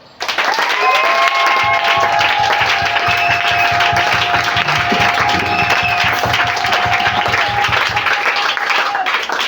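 A church congregation bursts into loud, sustained applause and cheering that fills the hall for several seconds, with a held vocal note rising above the clapping.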